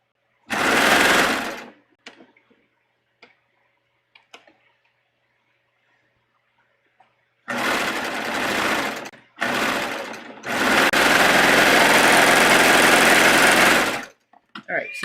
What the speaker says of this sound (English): So let's just sew these together